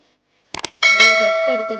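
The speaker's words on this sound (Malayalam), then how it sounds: "ഒരു ബെൽ ബട്ടൺ വേണം അതിൽ ഓൾ വേണം പ്രസ് ചെയ്യാൻ" A bell notification chime rings out clearly and alone, a sustained ringing tone with a few short taps just before it.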